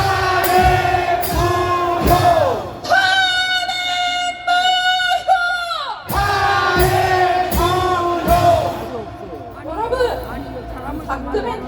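A crowd at an outdoor political rally chants a slogan in loud, rhythmic unison. Voices rise and fall in repeated bursts under a leader's calls and fill the whole stretch up close.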